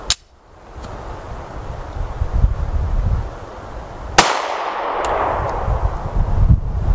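A 9mm handgun fires during a ballistics test: one sharp, loud report at the start, then a second crack a few seconds later, with ringing echo afterward in a noisy outdoor setting.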